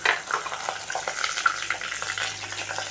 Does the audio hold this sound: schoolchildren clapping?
no